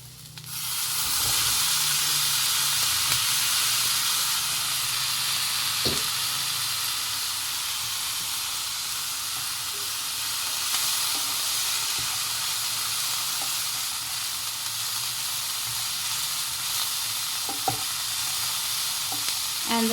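Broccoli fries in ghee in a pan, giving a loud, continuous sizzle and hiss that holds throughout, with a few faint clinks of stirring and no voices.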